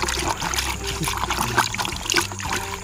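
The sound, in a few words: stirring crushed pills into water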